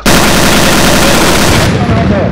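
Tank main gun firing a high-explosive shell from a Panzerjäger Tiger Ausf. B in the Steel Fury: Kharkov 1942 combat game; a loud, dense blast roar fills the whole clip and then rumbles away.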